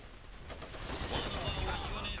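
Machine gun fire from a gunner in the strategy game Iron Harvest, a dense, fairly quiet rattle of rapid bursts mixed with distant battle noise, running steadily for two seconds.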